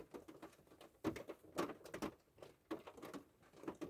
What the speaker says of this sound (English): as you can hear, it's raining a little bit